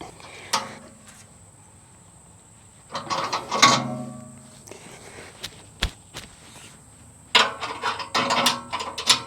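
Metal clicks and a ratcheting wrench tightening a jam nut on a hay spear mounted to a Farmall tractor's loader bucket, in short bursts separated by pauses.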